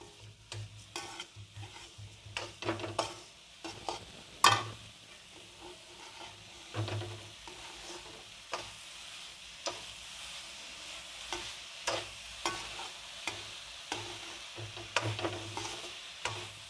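Carrot halwa with added sugar being stirred in a pan, a spoon scraping in repeated close strokes over a soft, steady sizzle, with occasional sharper clinks against the metal.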